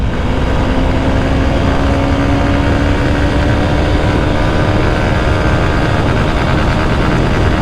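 A Honda XBlade FI ABS motorcycle engine runs steadily and loudly up close, holding a continuous drone with a slowly rising tone as it pulls through first, second and third gears, with no talk over it.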